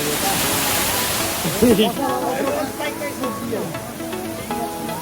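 A waterfall near the Manakamana temple trail pours in a steady, loud broadband rush, with voices faintly audible beneath the constant roar of water.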